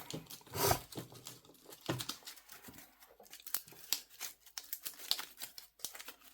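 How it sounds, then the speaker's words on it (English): Soft, rapid riffling and flicking of playing cards being shuffled, in irregular bursts with brief pauses, close and quiet. "I'm going to shuffle these."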